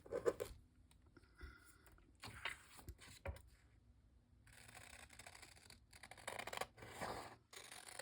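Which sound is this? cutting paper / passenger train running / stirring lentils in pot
cutting paper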